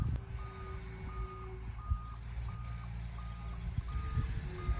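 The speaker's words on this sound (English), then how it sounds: "Truck's just getting ready to back in now." A truck backs in along a winding access road at a concrete slab pour for a barn-style shed. Its reversing alarm beeps at a steady, evenly spaced rhythm over the low rumble of the engine, moderately distant, with no speech.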